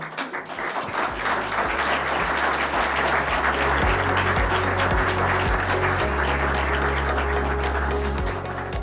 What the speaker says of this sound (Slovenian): Prosim za aplavz.